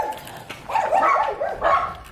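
Dogs bark and yelp nearby on a country club golf course, two short bursts of whiny, high barking close to the listener with no one talking.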